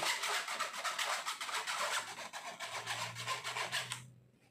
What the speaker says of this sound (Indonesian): Jadi kita saring dulu ya, biar halus adonannya.